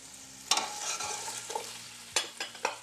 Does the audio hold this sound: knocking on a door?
no